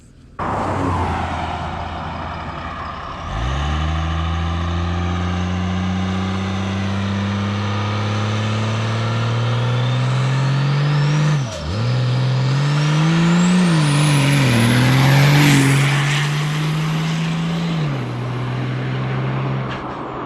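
A triple-turbo second-generation Cummins diesel truck launches down an eighth-mile strip, its engine roaring loud and steady as the pitch climbs, briefly dips at a shift, then climbs again with a rising turbo whistle before easing off.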